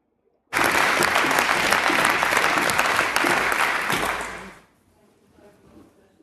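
A crowd bursts into loud sustained applause that continues for about four seconds before fading to quiet murmuring.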